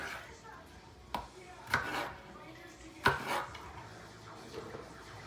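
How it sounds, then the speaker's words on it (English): A knife cutting a tomato on a board for restaurant-style salsa, a few sparse distinct chops and taps spaced irregularly, moderately close, with soft kitchen background between strikes. "So I'm just cutting up some of the tomato."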